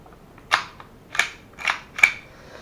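Four sharp snapping shots from a Rudis Secutor CO2 blowback airsoft pistol, spaced about half a second apart, crisp and close with a slight mechanical clack on each cycle.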